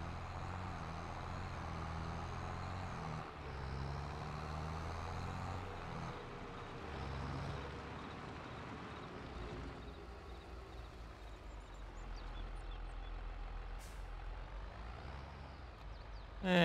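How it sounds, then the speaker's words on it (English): Truck engine idling and revving steadily while reversing a trailer in a farming video game, a continuous low rumble with a brief hiss near the end, no talk. "Trailer here is surprisingly easy to back up."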